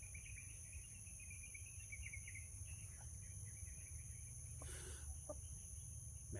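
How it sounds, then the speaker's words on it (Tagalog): A chicken clucks faintly in the distance amid a steady outdoor drone of crickets and insects, with a low rumble underneath and a few short louder noises midway. "May manok na dito, Bibi Samuel."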